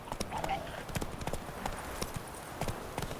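Roach, the horse in The Witcher 3, trots along with steady clip-clop hoofbeats, close and evenly rhythmic throughout, over a soft ambient game background.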